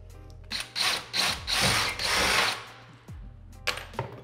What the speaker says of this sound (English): drill bit, and we're gonna make the hole into the wall.